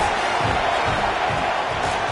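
Loud, constant roar of a football stadium crowd at a Florida at Florida State game, a dense wash of voices that holds steady without pause.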